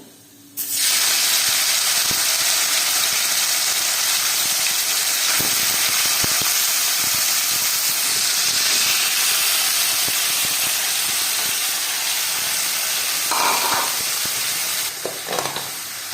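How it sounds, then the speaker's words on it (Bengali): Marinated chicken hits hot oil with garlic in a wok, bursting into a loud, dense, continuous sizzle that holds for many seconds, with a few scraping clinks of stirring and no talk. "তার জন্য আমি কড়াইতে তেল দিয়েছি, আমি একটু তাতে তেলটা গরম হয়ে গেছে, আমি তাতে একটু রসুন ফোড়ন দিলাম, দিয়ে আমার ম্যারিনেট করে রাখা চিকেনটা"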